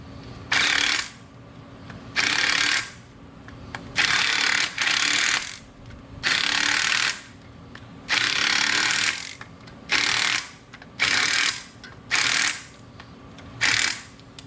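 A ratchet wrench tightens the front wheel bearing nuts on a 1983 Toyota Land Cruiser in a steady series of loud, close clicking bursts, each about a second long, separated by short pauses.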